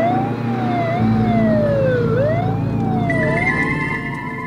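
An ambulance siren wails loud and close in a steady rising-and-falling sweep over a low traffic rumble, with a second higher-pitched tone joining near the end.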